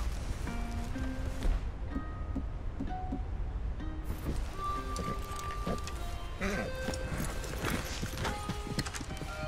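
A horse in Red Dead Redemption II moves at a steady clip-clop with hooves thudding close by, a brief whinny and light rain in the background.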